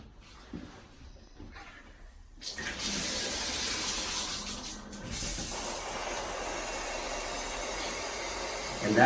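Shower water runs continuously in a home bathroom with a fault, a steady broadband hiss that swells and then holds at a constant level.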